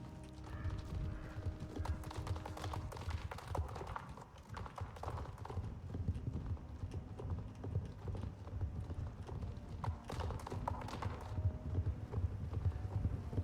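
Horse hooves clip-clop in the online horse-riding game Star Stable, a steady, fairly close rhythmic trot that carries on throughout with some faint mechanical clicking in the background.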